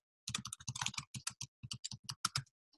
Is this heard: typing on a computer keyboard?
yes